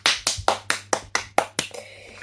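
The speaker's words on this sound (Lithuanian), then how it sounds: "aplodismentai." One person claps about eight times in a quick, steady rhythm, close and sharp, then stops.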